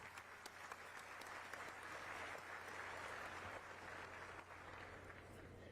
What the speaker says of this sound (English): Let's give them all a nice round of applause.